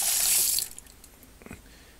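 Water in a dish pan at a cabin sink, draining slowly toward a dry well. A loud rush of water fills the first half-second, then drops to a quiet trickle with a faint splash near the end.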